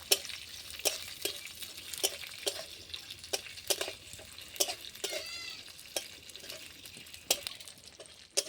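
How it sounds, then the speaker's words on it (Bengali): A spatula stirs chopped capsicum frying in a pan with vinegar, scraping again and again in irregular strokes over a soft, steady sizzle, close and moderately quiet. "ক্যাপসিকামটা একটু নাড়িয়ে নিব।"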